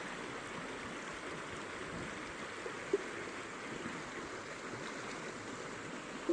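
A creek runs beside the bank in a steady, low rushing flow, quiet and continuous with no talking.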